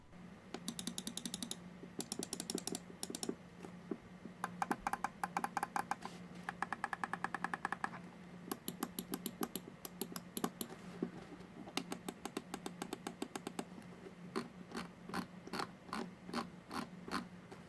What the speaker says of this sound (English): These buttons feel really sturdy, and I'll show you guys a quick sound test on all the buttons.